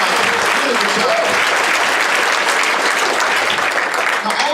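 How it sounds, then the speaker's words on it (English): An audience at a stage hypnosis show applauds the hypnotized VIPs, dense, loud, sustained clapping filling the room with a bright roar that holds steady throughout; a voice is heard speaking over it. "Ladies and gentlemen, applaud for the VIPs."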